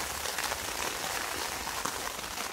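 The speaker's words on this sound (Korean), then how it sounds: "지금 비가 오고 있습니다." Rain patters steadily on a camping tent during an autumn outing, a dense, even hiss of drops with no talking.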